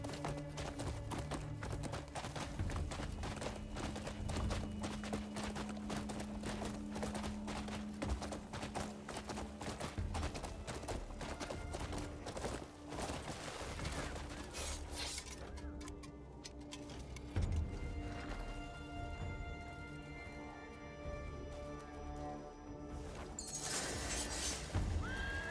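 Horse hooves clip-clopping in a steady, busy rhythm with repeated whinnying neighs from a video game, loud and continuous over a faint game soundtrack.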